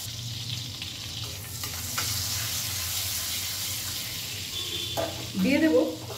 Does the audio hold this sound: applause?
no